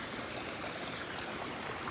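Water from the Homura River rushes through a brim-full irrigation channel beside rice paddies after the heavy rains of July 2020, a steady, dense roar with no pauses and no voices.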